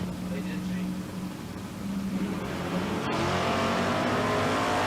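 Mopar drag race cars launching side by side down the strip in a semifinal at an outlaw drag racing event in London, engine roar building steadily and growing louder, with an announcer talking over it.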